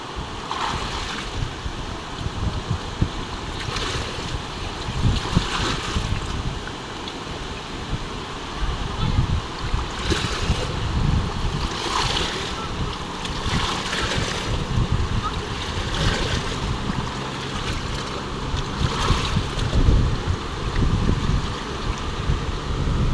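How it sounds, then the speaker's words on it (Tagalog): Strong river current rushing, a continuous loud roar of churning water with wind buffeting the microphone, steady throughout with slight surges. "laki na ng agos"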